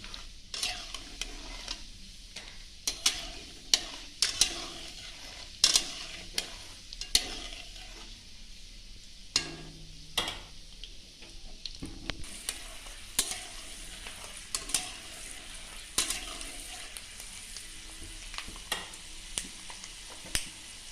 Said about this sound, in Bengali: এবার বাদাম কটা ভেজে নেব।